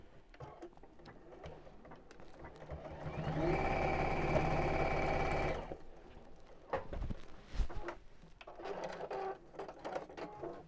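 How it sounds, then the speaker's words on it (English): A sewing machine stitches a straight seam in a single steady whirring burst of about two seconds, close by, surrounded by quieter fabric handling and rustling. "open that out, squish, and sew straight across"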